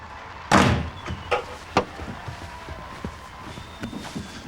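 A front door in a family home opens with a loud thud and bangs shut, followed by a couple of softer knocks and light movement, fairly close with no one talking.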